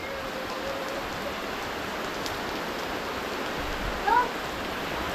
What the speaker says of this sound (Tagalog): So inabutan tayo ng malakas na ulan.